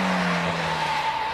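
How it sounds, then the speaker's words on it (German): A Mini John Cooper Works runs with a raspy, steady exhaust note and a thin turbo whistle rising over it, close and loud for a moment. "Proppelt vom Auspuff, ein bisschen vom Turbo das Säuseln."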